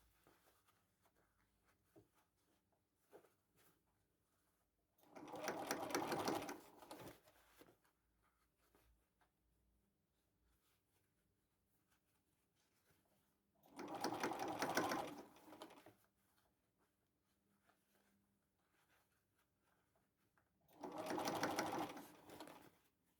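A sewing machine stitches a bucket hat in three distinct bursts of a few seconds each, a close, rapid mechanical whirring separated by quiet pauses with faint handling noises.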